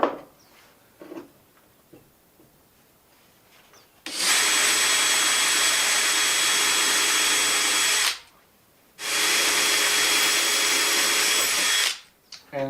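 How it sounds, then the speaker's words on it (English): Power drill boring holes through board in two loud, sustained bursts separated by a short pause, preceded by light handling clatter. "Now we'll drill some holes."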